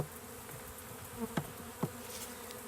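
A honeybee swarm being hived, with a green-marked queen among them, gives a steady, dense buzzing close by, broken by a couple of brief sharper knocks or thumps.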